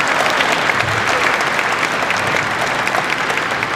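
An audience at an Aggie scholarship auction event claps steadily and densely throughout, a full round of applause with no talk over it.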